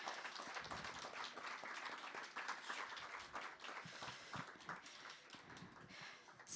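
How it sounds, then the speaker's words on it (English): Faint, distant audience applause at a poetry and solidarity event, a continuous patter of clapping hands with scattered louder claps throughout. "warm round of applause"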